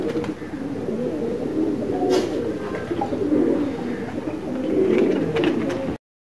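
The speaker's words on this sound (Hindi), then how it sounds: "ये नए कबूतर भी बैठे हुए हैं।" Pigeons feeding on scattered grain at dusk coo softly in a steady low murmur, with a few faint chirps and rustles nearby; no talking.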